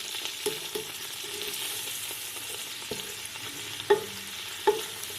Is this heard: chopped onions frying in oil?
yes